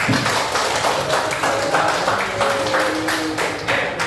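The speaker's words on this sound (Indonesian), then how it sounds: "tepuk tangan buat kita semua" A class of students claps together at the end of a lesson, a dense, steady patter of many hands sustained throughout without pause.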